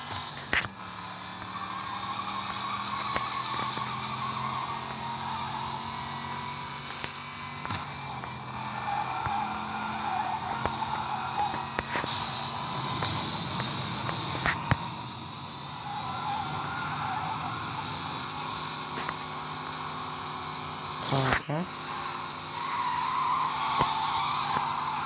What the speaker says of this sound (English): Look at these drifts, bro